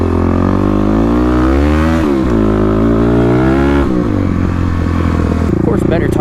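Kawasaki KLX351 motorcycle ridden off-road through corners, its single-cylinder engine droning loud and close with rising and falling revs as the throttle is rolled on and off between turns.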